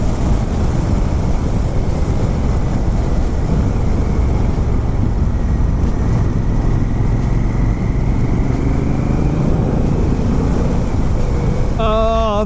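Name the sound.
motorcycle riding along the road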